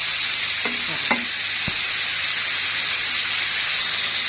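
Chicken breast pieces fry in a pan for Syrian shawarma, a continuous bright sizzle with a few short scraping stir strokes near the start and no talking.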